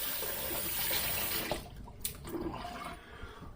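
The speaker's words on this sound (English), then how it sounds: "let's rinse off properly." Water runs steadily from a tap while a razor is rinsed after a shave, a loud, close gush that cuts off midway and leaves faint drips and clatter.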